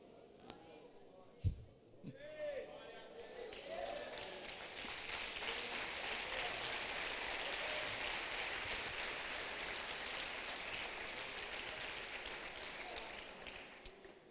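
A church congregation at a religious conference breaks into broad, sustained applause that swells after a sharp thump, a dense hissing wash of many hands lasting over ten seconds, somewhat distant and muffled.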